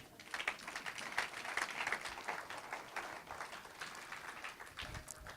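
A church congregation claps and applauds together, a dense sustained patter of many hands at moderate distance for several seconds with no talking.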